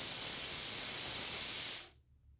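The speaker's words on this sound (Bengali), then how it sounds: "মাছগুলোকে আগে ভেজে নেব।" Pieces of katla fish fry in hot oil in a pan, making a loud, steady, close-up hissing sizzle that stops abruptly near the end, leaving near silence.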